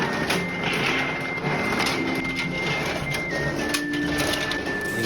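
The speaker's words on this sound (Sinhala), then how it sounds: "ඊළඟට ඔයාලා මේ දකින්න වගේ මැෂින් එකකින් මේ කජු ටික කපා ගන්න ඕනේ" A cashew nut cutting machine runs continuously: a dense, mechanical clattering and whirring with a steady high tone, close and constant throughout, with no speech.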